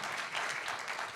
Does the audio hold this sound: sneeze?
no